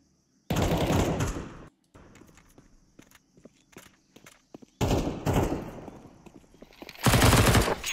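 Bursts of rapid automatic gunfire from the video game Counter-Strike 2, loud and close, with a quieter stretch of footsteps and lighter shots in between.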